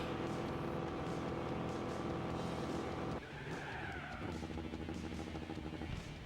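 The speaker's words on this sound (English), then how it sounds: "the sound of that engine" Race car engine in Gran Turismo 4 during the Suzuka 1000 km endurance race, a steady loud drone that shifts abruptly to a new pitch midway, with tyre squeal over the second half.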